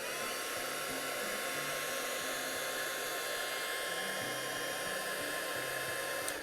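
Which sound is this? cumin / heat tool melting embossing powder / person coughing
heat tool melting embossing powder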